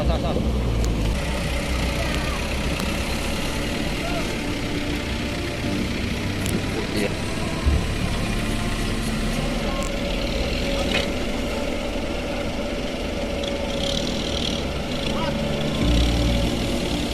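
A truck engine idles steadily in the open, a low continuous rumble that stays fairly loud throughout with faint background sounds and no clear reversing beeps.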